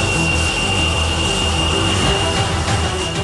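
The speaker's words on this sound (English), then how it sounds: "the canopy is lowered and the jet's American F404 engine is powered on" An LCA Tejas fighter jet's American F404 engine runs steadily while the aircraft taxis, a loud continuous roar with a high whine, heard from inside the cockpit.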